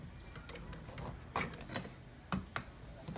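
Clicking and ratcheting of a tool tightening a wastegate fitting on a 13B REW rotary Mazda RX-8, a few sharp metallic clicks scattered over a soft background, close by with no talk.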